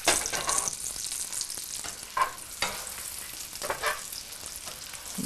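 Polenta toasting in a pan to a brown crispy crust, a soft continuous crackling sizzle with several brief scraping or shifting sounds at irregular intervals, fairly quiet and close, no talk.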